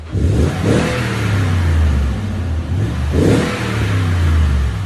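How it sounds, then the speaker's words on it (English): Toyota Tundra 5.7L V8 with a TRD exhaust, revved twice up close, each a deep rising roar that falls back to a low rumbling idle, with no talk over it. "That TRD system gives it that nice deep tone."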